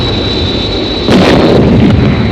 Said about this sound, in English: They may try ground-to-air missiles.